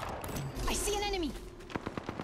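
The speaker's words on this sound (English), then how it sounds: "They're shooting at me" Bursts of enemy gunfire aimed at the player in the battle royale game Apex Legends, rapid cracks layered over in-game effects while a voice talks through the clip.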